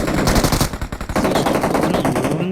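Automatic gunfire in the video game PUBG, loud and close, with rapid rhythmic bursts of sharp shots running almost continuously for a couple of seconds and no talking over it.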